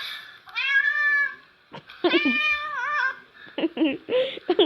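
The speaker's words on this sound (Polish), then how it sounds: "Kot co siedzi w pudełku." A cat sitting in a box meows several times, long drawn-out cries followed by shorter yowls, close and clear with quiet pauses between.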